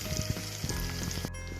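Hot tempering oil with dried chili and white sesame seeds sizzles steadily and close by for khandvi, a crackling fry with a few spoon scrapes and no voices.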